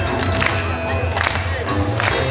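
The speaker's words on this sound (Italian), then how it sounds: "chiediamo a tutti quanti voi di battere le mani" A crowd claps hands together at an anti-mafia legality march in Joppolo in 2017. The clapping is dense and continuous throughout, with a hint of cheering mixed into the crowd noise.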